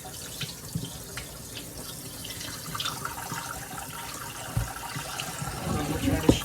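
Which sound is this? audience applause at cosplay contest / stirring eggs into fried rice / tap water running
tap water running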